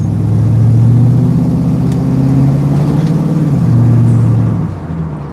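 A Ford Mustang's engine rumbles and pulls hard under throttle at low speed, a loud steady low drone heard from inside the car with slight pitch changes and no talk.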